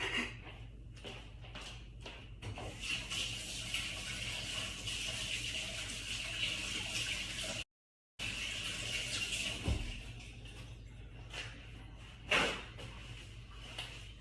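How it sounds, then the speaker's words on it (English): Hands washed under a running kitchen tap, a steady rush of water with brief splashes and a short pause, close and fairly quiet, no talk. "Let me wash my hands and I'll come back and give this a taste."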